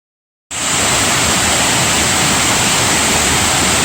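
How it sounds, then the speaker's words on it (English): Grogan Creek Falls in Pisgah National Forest, North Carolina, swollen after heavy rain, bursts in abruptly and roars as a loud, dense, unbroken rush of water close by. "Typically I would describe this as a quaint trailside waterfall, but not today."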